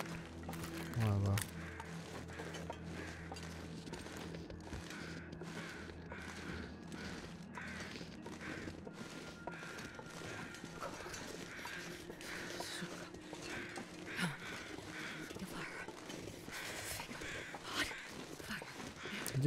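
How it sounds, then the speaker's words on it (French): Crows caw intermittently in the snowy wilderness of the survival game The Long Dark, faint and distant over quiet footsteps and ambient wind. "J'entends des corbeaux."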